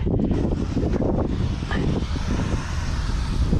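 Steady, strong winter wind buffeting the microphone outdoors, a continuous low roar with rumbling gusts and no voices.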